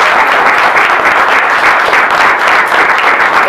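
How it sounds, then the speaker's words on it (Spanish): Dense, steady applause from an audience at the opening of a children's and youth painting contest exhibition, filling the whole stretch with continuous clapping and no talk. "demos un aplauso muy grande a los artistas"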